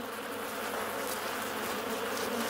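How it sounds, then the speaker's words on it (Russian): Angry honey bees swarming and stinging a honey badger raiding their hive, a dense, loud, continuous buzzing drone that stays steady with no pauses. "Пчелы жалят его снова и снова."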